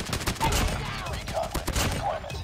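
Odin assault rifle gunfire in Call of Duty Mobile, rapid steady bursts of loud gunshots throughout, with someone talking over the firing.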